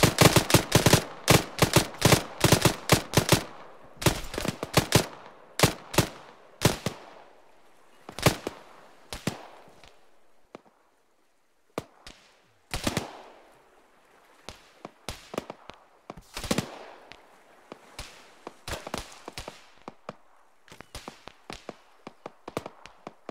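Gunfire in Arma 3 combat: rapid bursts of sharp, loud shots at first, then scattered single cracks and short volleys near and far, with brief gaps of near silence.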